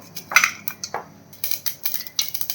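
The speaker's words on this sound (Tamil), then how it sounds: "பாத்திரம் வச்சு ஆயில் விட்டுருக்கேன் அதில் கடுகு கடுகு பொரியட்டும்" Small crackles and pops scattered irregularly, like mustard seeds spluttering in hot oil, fairly close, with a brief clatter early on and no talking.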